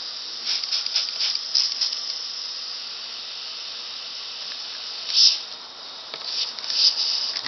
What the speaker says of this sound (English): you can hear it leaking there